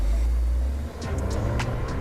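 A VinFast front-engine, rear-wheel-drive sedan with a turbocharged 2-litre engine drives through a handling test, giving a steady low engine rumble with brief sharper bursts of road or tire noise near the end.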